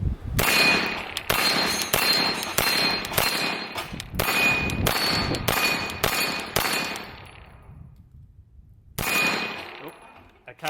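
A Scorpion Evo 9mm fires 115 grain American Gunner hollow points in a quick string of sharp, loud shots with metallic ringing, a brief pause, then one more report.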